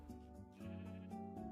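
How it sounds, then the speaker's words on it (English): Minecraft sheep bleating in a soft, wavering voice, with a second bleat starting midway, faint and alone with no talk. "Sheep."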